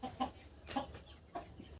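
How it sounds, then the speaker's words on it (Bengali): A hen on a poultry farm gives three short, fairly faint clucks in an even rhythm. "আর এই যে মুরগি।"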